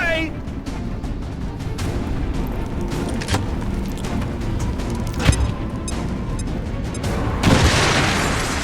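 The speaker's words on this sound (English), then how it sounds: "Bombs away!" Bombs exploding in the strategy game XCOM 2, a dense rumbling barrage with sharp booming bursts around the middle and a louder crashing blast near the end, over continuous low-end rumble.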